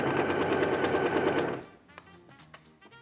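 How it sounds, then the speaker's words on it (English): A sewing machine stitches quilt fabric for a bear claw quilt, running in a steady, loud, rapid whir for about a second and a half, then stopping, followed by a few faint clicks and handling noises. "take it to the sewing machine and be right back to iron it"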